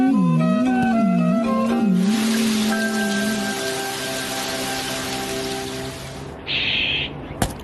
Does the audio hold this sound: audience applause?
no